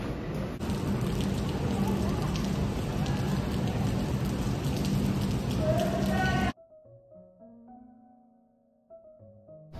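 Heavy rain pours down in a dense, loud, steady hiss and patter for about six and a half seconds, then cuts off abruptly, leaving faint tonal sounds.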